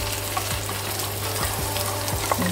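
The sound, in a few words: tomatoes frying in a pan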